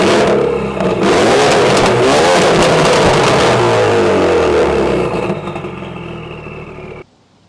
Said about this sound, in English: I see 2 giant real exhausts, and they sound like this.